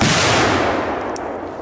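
A loud, sharp blast from a Polish category 4 firework fills the start, its roar slowly decaying over the next second or so, with a faint crackle near the end.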